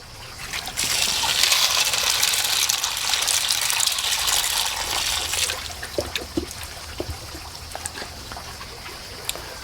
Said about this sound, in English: as fast as I pour the water in